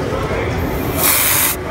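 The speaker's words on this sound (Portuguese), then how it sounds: "Esse é no spray." Face cream spray misting out in one steady hiss for about half a second, close and fairly loud over a constant background noise.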